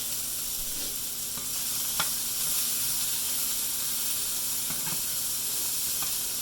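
Cut squash hisses and sizzles steadily in a hot pan, a continuous frying hiss with a few faint pops and stirring clicks, no talking.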